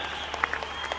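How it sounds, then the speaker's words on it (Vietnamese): A brief, faint burst of audience applause at a concert for a band and their sound engineer: dense scattered clapping heard from some distance. "xin quý vị cho ban nhạc và người chỉnh âm thanh một tràng pháo tay quý vị ơi"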